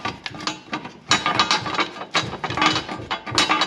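A ratchet clicks in quick repeated bursts while snugging 10 mm nuts on the engine ground strap of a BMW 335, close and crisp with short pauses between strokes.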